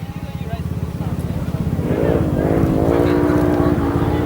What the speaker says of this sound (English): You can hear lots of engine sounds as we hear all the vehicles going around.